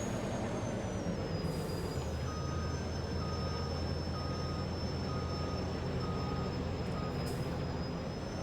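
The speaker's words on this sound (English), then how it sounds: "I can back it in with this truck." A truck backs up in a farming-style video game, its reversing beeper pulsing steadily and evenly over a constant loud engine drone, with no talking.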